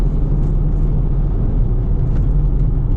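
A Dodge Challenger R/T with a six-speed manual gearbox cruising in sixth gear, heard from inside as a steady low engine drone and road rumble, loud and unbroken throughout.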